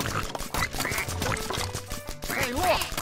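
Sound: duck quacking in Toy Story Mania video game

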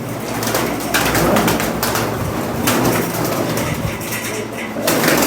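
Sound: pigeon landing and cooing

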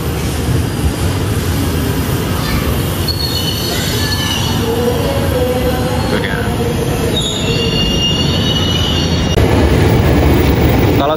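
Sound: commuter train passing

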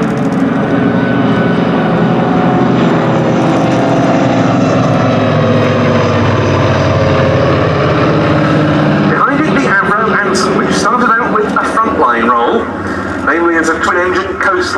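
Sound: twin-engine propeller RAF coastal reconnaissance plane flying at airshow

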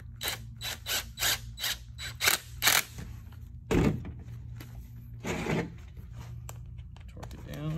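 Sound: ratchet tightening hose clamp on CIPP lateral liner

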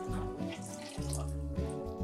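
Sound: pouring water into a pot for tamarind syrup

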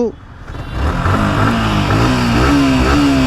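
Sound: Yamaha R15 V3 Indian motorcycle engine revving

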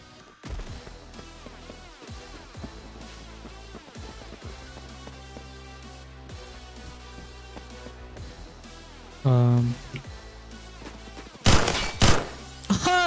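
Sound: G11K2 gunfire in Roblox Phantom Forces video game

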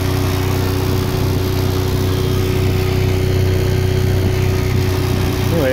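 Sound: electric boat motor spinning propeller fast

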